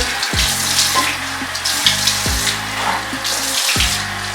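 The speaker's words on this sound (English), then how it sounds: "I'm just going to quickly rinse out my face" Tap water runs into a bathroom sink during a nighttime face rinse, making a steady close splash broken by irregular gurgles and shifts as hands move through the stream.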